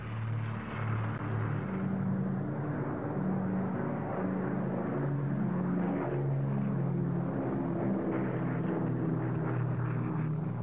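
Piston engines of WWII Brewster Buffalo fighter aircraft drone steadily and loudly throughout, a continuous low harmonic roar with a broad rumbling wash and no voices.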